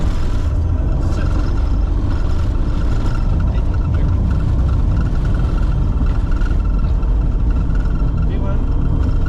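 A Challenger 605 business jet's engines run at takeoff thrust on departure from Sint Maarten, a loud, dense, constant roar that fills the cockpit without pause.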